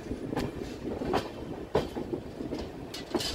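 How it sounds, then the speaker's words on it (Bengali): The 12809 Mumbai–Howrah Mail pulling out of Kharagpur station, with a rumbling rolling train, repeated clicking wheel-over-joint knocks and occasional brief squeals, heard from close by. "12809 মুম্বাই হাওড়া মেল খড়গপুর স্টেশন ছেড়ে বেরোচ্ছে।"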